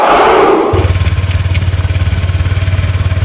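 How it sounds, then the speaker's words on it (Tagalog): A motorcycle engine runs close by with a fast, pulsing putter after a brief burst of other noise, its beats repeating evenly and loudly throughout. "Daming tunog na naririnig sa motor."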